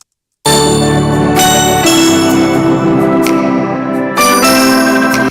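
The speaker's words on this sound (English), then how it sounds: "some bells as well added to the song" Bells layered into a gospel worship song production, bright ringing chimes struck in several bursts with sustained metallic tones that decay between hits, loud and close over a low musical bed after a brief silence.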